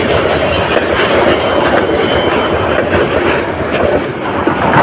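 The Kalni Express, a Dhaka-bound train out of Sylhet, rushes past at speed with a loud, continuous roar and rattle that holds steady throughout, close and full, with no talk.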